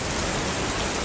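Steady, dense rainfall with a constant hiss of drops on surfaces, loud and close, without breaks, no voices.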